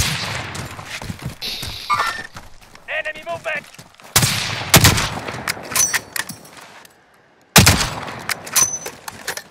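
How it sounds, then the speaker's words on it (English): Gunfire in the video game Call of Duty Modern Warfare: sharp bursts of shots in uneven clusters, some loud and close, others more distant, with brief quiet gaps and talk in between. "Just heard shots."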